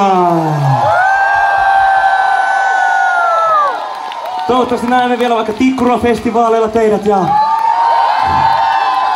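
A big concert crowd cheers and whoops for a Finnish performer at his outdoor gig in Backas, Vantaa, Finland; the loud roar fills the clip while the performer talks over it.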